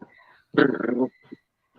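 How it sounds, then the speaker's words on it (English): A dog trying to get someone to play ball lets out a close, short burst of whimpering and growling, about half a second long, with a faint yip after. "I got a dog that's trying to get me to play ball with him."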